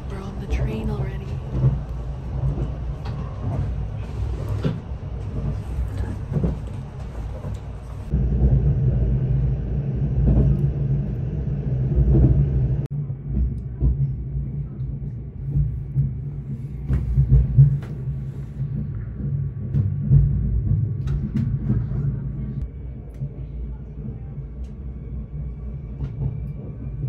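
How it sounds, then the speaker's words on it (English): A Swiss passenger train near Interlaken runs along with a deep steady rumble and periodic rattles heard from inside the carriage, continuous throughout as people talk over it. "We're on the train already."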